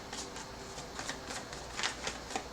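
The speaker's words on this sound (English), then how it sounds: "so let me do a quick shuffle here." Tarot deck being shuffled by hand, a short run of soft riffling card flicks in quick bursts, close and fairly quiet, with no voices.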